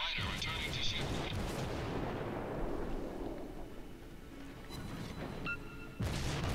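Naval gunfire from the IJN light cruiser Kuma in World of Warships, a booming blast followed by a long rumbling decay, with further faint shots near the end and no talk over it.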